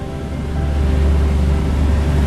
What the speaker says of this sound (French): Ça va faire des vagues pour ton bateau, qui est amarré.